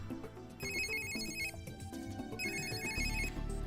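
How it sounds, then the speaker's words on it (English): A smartphone rings in the Steins;Gate 0 visual novel game, a bright melodic ringtone repeating its phrase clearly over soft background music. "Dr. Leskinen got a phone call on his smartphone"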